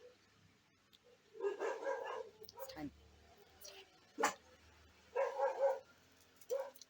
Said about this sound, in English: And the dogs confirm it.